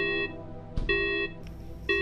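An electronic alarm sounds as a repeating tonal beep, three pulses at a steady interval, fairly clear against a faint background hum, signalling the end of breakfast.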